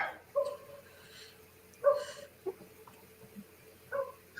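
A dog gives faint, scattered whimpers and soft yips indoors, several brief cries spread over a few seconds against a quiet background.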